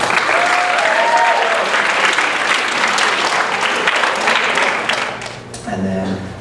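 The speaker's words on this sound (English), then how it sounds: "So please give him a round of applause." Audience applause at a high school student-versus-teacher debate event, sustained steady clapping filling the room for several seconds before tapering off, with a voice starting to speak near the end.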